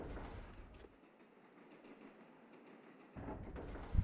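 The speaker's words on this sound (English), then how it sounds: "The train track's running nice" Video game train running on its track in Automation Empire, a quiet rolling rumble that fades in and out, with a louder passage at the start and end.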